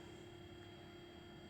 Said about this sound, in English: I forgot to turn my curing machine off.